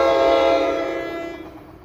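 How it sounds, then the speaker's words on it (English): Amtrak 648 from Harrisburg to New York nears Princeton Junction with a former Metroliner cab car leading, its horn sounding loud and sustained before fading gradually, with rumble beneath. "approaching at 12:42 is Amtrak 648, Harrisburg to New York. Cab car forward, former Metroliner car."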